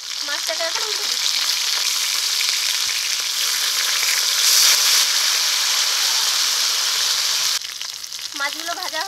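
Pieces of fish frying in hot oil while being turned over, a continuous close crackling sizzle that drops slightly near the end, with faint bird calls around.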